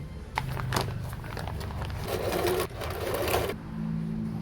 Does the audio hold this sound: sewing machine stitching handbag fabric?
yes